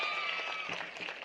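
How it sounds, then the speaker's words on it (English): Audience at an international pharma conference breaks into a brief burst of applause, a short, close wash of clapping heard alone for about a second. "One big round of applause to her."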